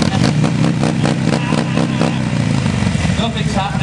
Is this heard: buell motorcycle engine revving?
yes